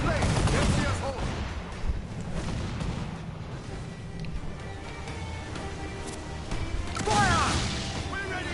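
Muskets and cannons fire in a naval battle in Assassin's Creed IV Black Flag, a dense, continuous rumble of volleys and crashing blasts, with shouting voices over the din.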